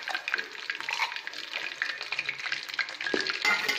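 Chicken lollipops fry in hot oil with a steady, busy sizzle and crackle, close and fairly quiet, with a few stirring scrapes and no talk.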